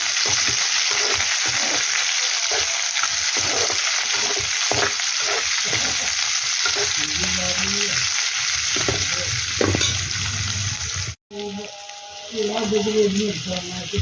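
Chopped onion pieces fry in a pan and are stirred, giving a steady close sizzle with scraping stir strokes throughout, a brief break near the end, then frying resumes.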